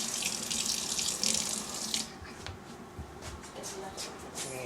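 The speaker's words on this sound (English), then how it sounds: "I run over here to the sink, add a little water to it" Water runs steadily from a kitchen sink faucet into bottles, a strong hiss that softens and changes tone partway as the bottles fill, with light clinks and handling.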